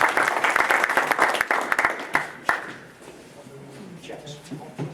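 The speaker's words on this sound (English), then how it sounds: "So, round of applause for them." A room claps for newly installed officers, dense applause for about two seconds that thins out into scattered claps and fades as voices start talking.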